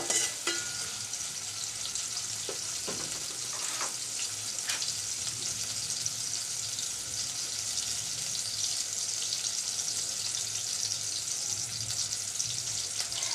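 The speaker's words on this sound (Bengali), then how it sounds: "তাড়াতাড়ি পেঁয়াজ আর রসুনটা ভাজা হয়ে যাবে" Onion and garlic fry in oil with dried bamboo-leaf fish for a village-style winter vegetable dish, a steady close hiss of sizzling with a few faint clicks, no voices.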